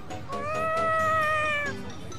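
A cat in the video game Tales of Xillia 2 gives a single clear, drawn-out meow lasting over a second, close and fairly loud over faint game background.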